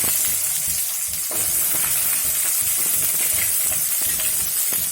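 Small onions with mustard seeds, fenugreek, dried chilli and curry leaves fry in oil for a white pumpkin sambar tempering, giving a loud, dense, continuous sizzle with stirring scrapes throughout and no talking.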